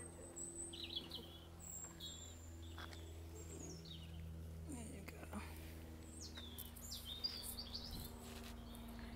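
Small birds chirp and tweet in lush coastal gardens on the Scarborough seafront, scattered bright calls overlapping throughout at moderate distance over a low steady hum, faint and continuous.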